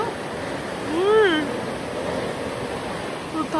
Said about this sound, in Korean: 들리세요? 물소리?